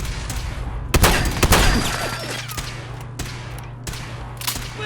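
Gunfire in Fallout 4: a loud cluster of shots near the start, then scattered single cracks and short bursts over a steady low hum, some nearer and some more distant.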